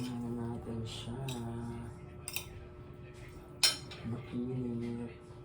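Utensils scrape and clink against a pan while yakisoba is stirred, a few sharp metallic taps over quiet background hum, with a voice talking softly in between.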